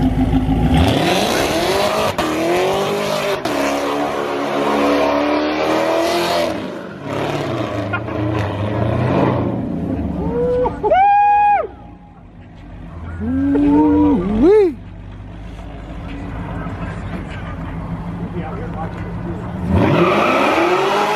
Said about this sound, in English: Candy Apple Red race car